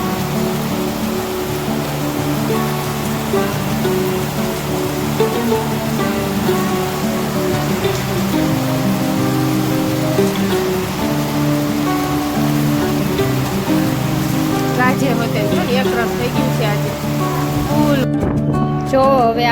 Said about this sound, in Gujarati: ધાબો કેવો વરસાદ આવે